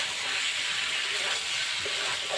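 Cauliflower and potato being stir-fried in spice paste, a steady broad hiss of sizzling oil throughout, close and even, with no voices.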